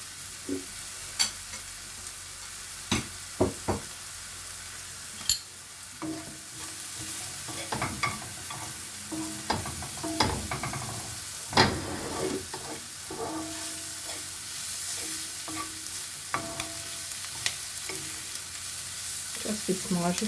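Flour sizzles softly as it fries in a pan while a utensil scrapes and taps against it in irregular stirring strokes, no voices present.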